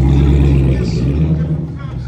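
Dodge Hellcat at a cars-and-coffee meet, a loud close low engine rumble and whine under the surrounding crowd noise, with voices talking nearby.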